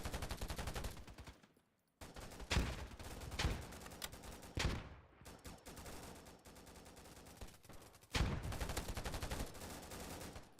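Gunfire from a sniper and other weapons in the video game Whisper Mountain Outbreak, dense repeated loud shots and bursts with a brief lull near the start.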